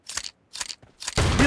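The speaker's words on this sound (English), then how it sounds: "Reloading!" A shotgun reloaded in a shotgun-only team deathmatch video game: three quick mechanical clacks of shells loading, then a loud broadband burst, all close and crisp.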